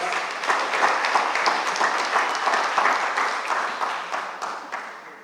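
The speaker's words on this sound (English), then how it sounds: "Give a round of applause to the experts." An audience at a reading clinic's opening ceremony breaks into steady applause, a dense, fairly close patter of many hands that holds for several seconds before tapering off.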